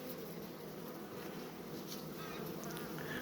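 Honey bees buzz steadily on a sealed brood frame pulled from a hive, a dense, continuous drone that stays close and even throughout with no talking.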